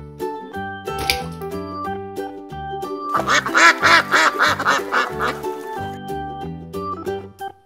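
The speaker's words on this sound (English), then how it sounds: "Duck." A duck quacks several times in a quick burst over a bright, steady musical backing, loud and close.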